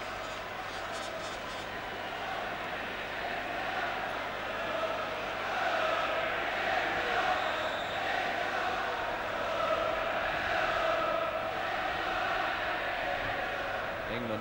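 Football crowd chanting inside Wembley Stadium during an England v Norway World Cup qualifier in 1980, a broad continuous roar that swells and recedes throughout, with the sense of a huge distant mass of voices.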